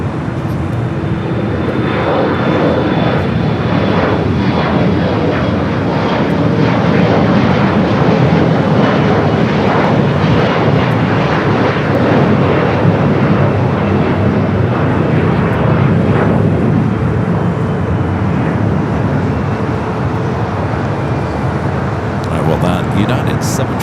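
A United Boeing 757-300 inbound from Chicago to Los Angeles airport gives a steady, loud jet roar that holds evenly for over twenty seconds without letting up.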